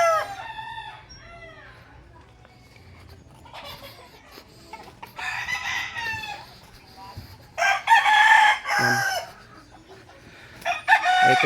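Game fowl roosters on a game farm crow again and again at close to middle distance, with several loud calls overlapping near the end. Soft clucking and a quiet voice fill the gaps between crows.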